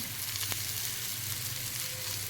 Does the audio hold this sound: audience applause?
no